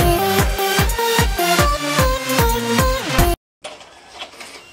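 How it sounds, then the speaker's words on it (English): A photo printer outputting a photo booth picture sent from an iPad whirs and clatters in a steady, rhythmic mechanical cycle of repeated feed strokes, loud and close, then cuts off abruptly and is followed by faint room noise. "You kind of hear it start printing."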